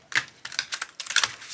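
Tarot cards riffled and shuffled by hand, giving a run of quick crisp papery flutters and snaps in bursts, close and fairly quiet, with no voices.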